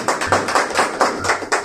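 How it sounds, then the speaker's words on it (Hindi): A congregation at a church ordination service claps in a steady, rhythmic beat for an elder, with sharp close claps repeating every fraction of a second and no talking. "जोरदार तालियां एल्डर साहब के लिए"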